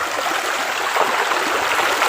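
Clear river water flows steadily at the foot of a mountain, a continuous close rushing and babbling with no pauses and no voices.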